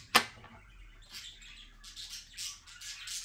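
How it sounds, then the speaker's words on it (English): A pet macaw squawks and chirps in a string of short, bright calls after one sharp opening click, with the calls at moderate volume and fairly close. "I think my macaw has picked up that word"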